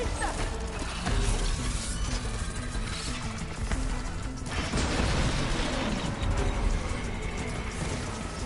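A ballista being reloaded in the video game Horizon Forbidden West, a continuous mechanical clatter of ratcheting gears and creaking parts held steady under a busy battle din.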